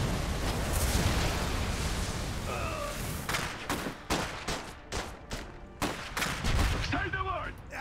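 Gunfire from the Iron Harvest beta, a series of sharp, repeated bursts and single shots cracking out over a dense battle din, with several voices talking over the action.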